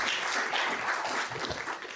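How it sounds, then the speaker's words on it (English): An event audience gives a round of applause, a soft, steady wash of clapping heard from a distance for about two seconds, with no voices on top. "Let's give them a round of applause."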